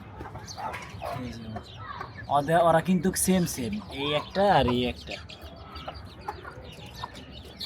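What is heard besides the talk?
chickens (hens) sitting together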